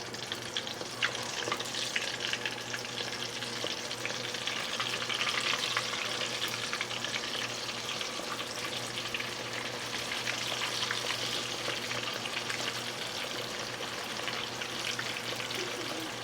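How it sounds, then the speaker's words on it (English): Cornstarch-coated pieces deep frying in hot oil, giving a steady, dense sizzle and crackle that holds at an even level for the whole stretch, close by with no talking. "So straight into the oil we go in and shake off any excess cornstarch."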